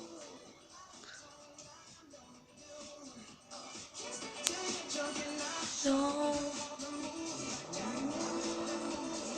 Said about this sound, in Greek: ακούγεται που κάνει drift.